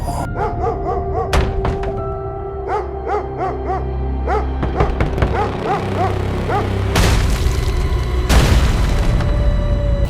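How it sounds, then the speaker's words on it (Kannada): Dogs barking in odd, irregular bursts over heavy low thumps and booming, with a dense rumbling backdrop throughout. "ಮನೆ ಮುಂದೆ ನಾಯಿಗಳು ವಿಚಿತ್ರವಾಗಿ ಬೊಗಳುತ್ತಾ ಇತ್ತು"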